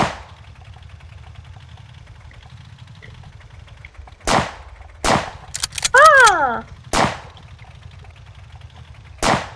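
Tank cannon fire in a tank war video game: several loud, sharp blasts spaced a second or so apart over a low engine hum, one joined by a burst of descending electronic tones.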